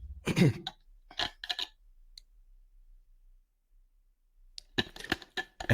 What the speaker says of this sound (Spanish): estoy con mucha tos y voy refrescando la garganta